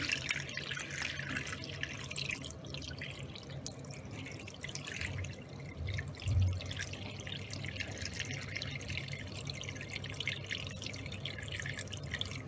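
Lime water strained off pumpkin pieces while making crisp pumpkin jam, with faint, continuous trickling and dripping of water against a low background hum and no talk.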